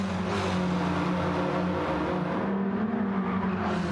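Race car engines in a sim racing game whine and rev as cars brake hard into a corner and accelerate out, a dense steady engine roar close up with shifting pitch.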